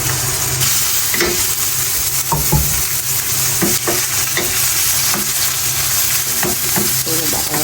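Shrimp frying and sizzling in a pan for chopsuey, a loud steady hiss with scraping stirs and clinks of the utensil against the pan throughout.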